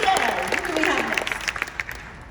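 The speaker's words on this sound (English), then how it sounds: "A big round of applause." Applause from an audience at a Cirque du Soleil preview presentation at Walt Disney World, a burst of clapping that starts full and thins into scattered claps as it fades.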